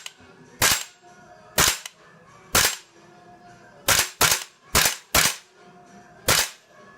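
WE XM177 gas blowback airsoft rifle firing semi-auto, eight sharp loud cracks at irregular intervals, some in quick pairs, with quiet pauses between.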